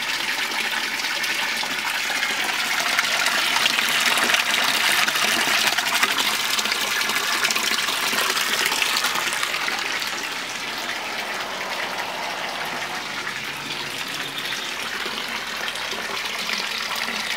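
Water pouring steadily out of a homemade pond biofilter, a continuous close splashing gush that stays fairly even throughout with no voices.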